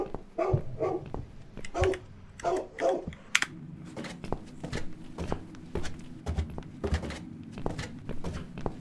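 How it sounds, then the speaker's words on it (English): A dog in The Cat Lady video game barks in repeated loud bursts, about six in quick succession, then goes quieter while sharp knocks and thumps continue in the background. "This dog is making quite a racket."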